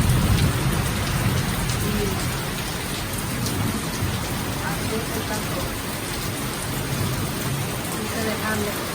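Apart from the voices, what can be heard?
rain falling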